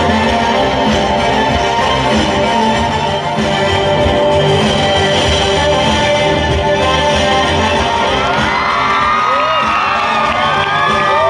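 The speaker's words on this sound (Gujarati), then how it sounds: "જોરદાર તાળીથી મિત્રો અમને આ દીકરાઓને વધાવ્યો" A loud crowd at a school annual function claps, cheers and whoops for performing children, sustained and dense throughout, with high excited shouts rising toward the end.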